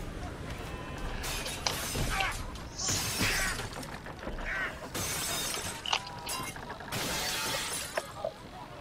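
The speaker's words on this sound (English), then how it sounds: "Where do they keep finding all this glass to break?" Glass shattering repeatedly in a pirate tabletop roleplay game, several loud bursts of breaking glass and tinkling shards, close and clear, over a continuous noisy background.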